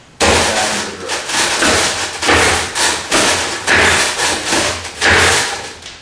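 Repeated strikes on a wooden Mook Jong training dummy during a Wing Chun Lop Sao drill, a steady run of sharp knocks and thuds in quick rhythmic bursts, close and loud with no talking.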